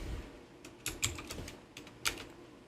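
Computer keyboard typing Python code, a few quiet scattered key clicks in short clusters over low room noise.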